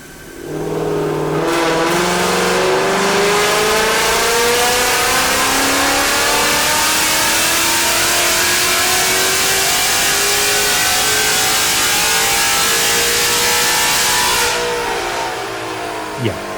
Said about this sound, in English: And run on the dyno.